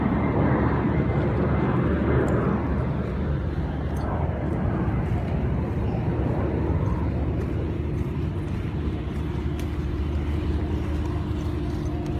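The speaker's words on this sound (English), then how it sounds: "Here's the old plane taking off" A broad, roaring jet engine swells then gradually recedes as a plane takes off from London City Airport, heard from a distance over steady background rumble.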